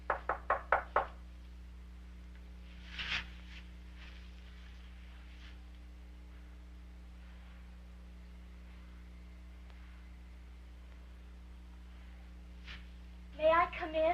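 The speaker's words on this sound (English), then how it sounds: "finally gained enough courage to knock on my door" Four quick, sharp knocks on a door open the sequence, followed by quiet room tone, a few soft sounds, and a brief burst of another clatter near the end.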